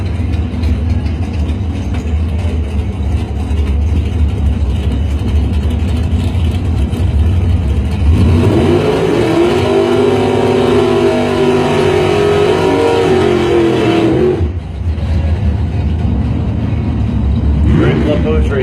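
A 77 Nova and an 84 Monte Carlo SS drag race cars sit with engines rumbling at the line, then build to a loud, rising roar as they launch, under an announcer's voice over the track speakers.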